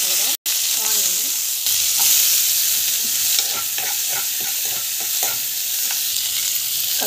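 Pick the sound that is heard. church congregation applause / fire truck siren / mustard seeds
mustard seeds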